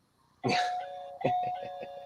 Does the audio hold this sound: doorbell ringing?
yes